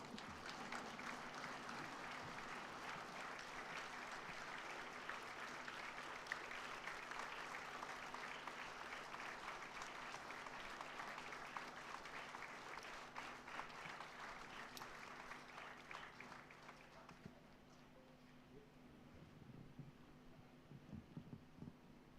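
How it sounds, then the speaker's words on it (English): A standing ovation at an annual awards ceremony: dense, steady applause from a large audience, sustained for well over a dozen seconds before thinning out and fading to scattered claps. "give standing ovation"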